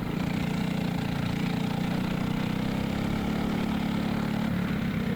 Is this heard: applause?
no